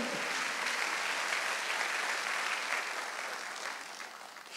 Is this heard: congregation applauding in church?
yes